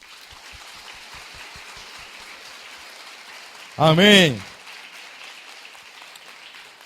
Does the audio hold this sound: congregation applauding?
yes